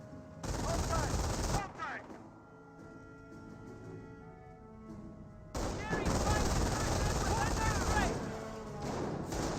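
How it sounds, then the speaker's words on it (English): Small arms fire crackles in the WWII strategy game Company of Heroes, with dense bursts of rifle and machine-gun shots in two loud spells separated by a quieter gap, under a commentator's voice. "Pioneers are seeing a bit of small arms fire from the lieutenant."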